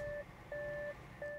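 A Skoda Enyaq vRS electric SUV sounds a seat warning chime: three steady, evenly spaced electronic beeps, fairly quiet and heard alone inside the car.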